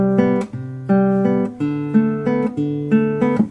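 Classical guitar arpeggios with the right-hand fingers fully planted, so each chord rings as a blocky, clipped group; repeated plucked patterns in a steady rhythm, close and clear with no talking.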